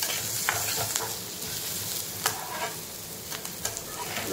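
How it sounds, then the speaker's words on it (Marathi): Dry grated coconut stirred and frying in a pan with onion, giving a steady soft sizzle with a few scraping stir strokes, close and fairly quiet with no talking. "याच्यावरती आपण खोबरं टाकून घेणार आहे। त्यालाही आपण थोडंसं फ्राय करून घेऊया।"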